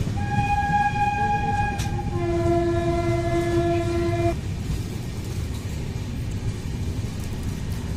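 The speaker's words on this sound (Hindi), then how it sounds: "तो ट्रेन अब पहुंच गई है बरुआ सागर स्टेशन के ऊपर।" A train pulls into Barua Sagar railway station on the Mau Ranipur–Jhansi line, its horn sounding loud and sustained in several tones for about four seconds over steady rumbling rail noise that continues afterward.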